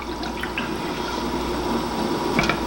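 Wine and sugar syrup stirred in a pot while heating for canning cherries, giving a steady liquid swish with faint scraping and small clinks, continuous and close throughout.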